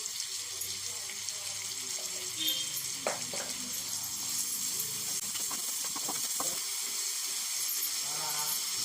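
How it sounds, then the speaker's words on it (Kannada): Onions with a pinch of salt frying in a pan, a steady soft sizzle with occasional stirring scrapes and clinks running through the whole stretch, close and moderately loud. "ಸೊ ಈರುಳ್ಳಿನ ಚೆನ್ನಾಗಿ ಫ್ರೈ ಮಾಡಬೇಕು"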